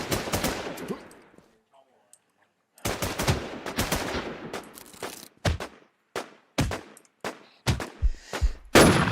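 Automatic gunfire bursts repeatedly in the survival shooter Warz Infestation, long rattling volleys broken by a brief lull and then tighter short bursts, loud and close, with a player's voice breaking in.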